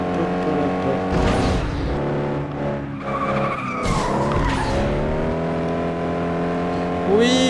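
Racing cars in FlatOut 2 roar and rev with skidding tire squeals as the driver loses control, harmonic engine tones rising and dipping loudly throughout, with a voice talking over them.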